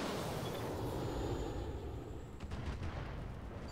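LRM-5 missiles launch in the RogueTech mech game, a dense continuous rumble of low booms and rushing noise with a few sharper cracks toward the end, loud and unbroken throughout.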